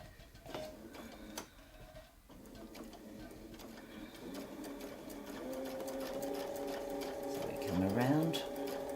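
A sewing machine hums and stitches close by, its motor steady while a wreath design with echo is sewn, a rising whirr near the end, with a person talking quietly now and then.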